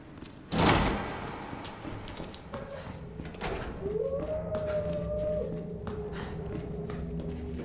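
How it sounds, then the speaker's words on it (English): Dogs in a kennel in the video game Resident Evil 4, a mournful howl rising and sustaining among clanks, a sharp bang and game ambience, moderately loud with no speech. "take care of these dogs here in the kennel"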